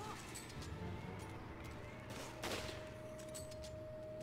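Rifle gunfire in the video game Resident Evil 5, heard as scattered shots with one sharper burst midway, all faint and low in level against a steady game-audio background.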